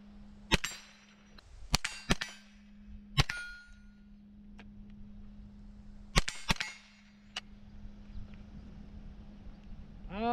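Several sharp gunshots ring out, each followed by a metallic clang of a steel target plate, fired in small clusters with pauses between, loud and close, over a steady background hum.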